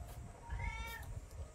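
A cat gives one clear, close meow while being offered flour and rice to eat, with a soft low rumble of room noise beneath it.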